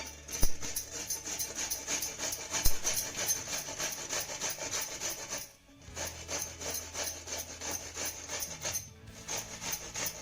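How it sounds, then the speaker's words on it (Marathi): Whole okra being grated on a large kitchen grater makes a close, steady scraping rasp. It runs continuously with two brief pauses between strokes, and no voices are heard. "भेंडी किसण्यासाठी इथे मी ना मोठ्या किसणीचा वापर करते म्हणजे छान अशी मोठी मोठी भेंडी आपली किसली जाईल"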